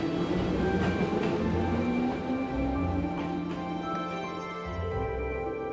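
Train noise from the Trails of Cold Steel video game: a steady rumbling ride with rhythmic clicks and faint squeals, continuous and fairly loud throughout with no talk.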